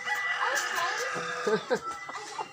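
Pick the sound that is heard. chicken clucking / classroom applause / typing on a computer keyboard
chicken clucking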